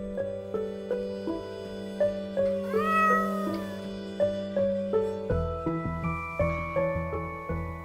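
An indoor cat in a room lets out one clear drawn meow over a steady music bed, followed by a fainter, briefer mew near the end.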